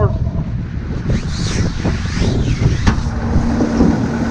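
Strong wind buffets the microphone in a barnyard, a loud, steady low rumble with gusting swells throughout.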